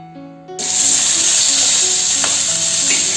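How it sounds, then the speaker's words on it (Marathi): Grated coconut and tomato roasting in a little oil on a hot tawa, a loud continuous close sizzle that starts abruptly and holds steady, with a faint tonal hum at the start. "खोबरं आणि टोमॅटो थोडंसं तेल टाकून छान भाजून घेऊया"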